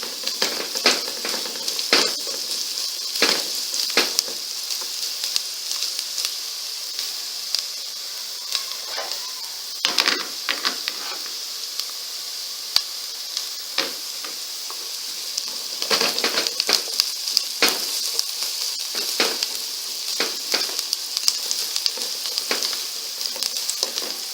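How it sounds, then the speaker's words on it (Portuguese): Chopped onion sizzles and fries in a pan with a steady bright hiss, broken by intermittent scraping and stirring clatter, close and continuous for the whole stretch. "Vou deixar essa cebola murchar um pouquinho."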